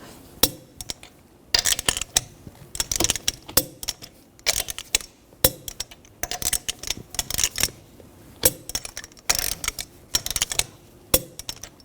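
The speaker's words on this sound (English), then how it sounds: "Now I'm going to torque the lug nuts to 100 foot-pounds in a cross pattern to tighten the wheel down evenly" Ratcheting clicks from a torque wrench tightening lug nuts on the wheel of a 2013-2019 Ford Escape, in close, irregular bursts of rapid clicking with short pauses between nuts.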